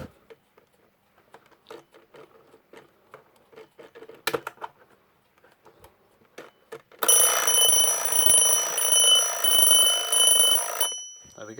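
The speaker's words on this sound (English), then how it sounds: "It seems to be a working electric alarm clock" A homemade electro-mechanical alarm clock rings loudly and continuously for about four seconds, a bright metallic clatter that follows quieter clicks and handling noises of the mechanism.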